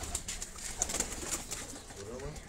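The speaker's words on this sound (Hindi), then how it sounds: "और भी बहुत सारे कबूतर हैं।" Flock of high-flying pigeons at a Karachi loft coos steadily at close range, a low continuous murmur with occasional chirps and light rustling.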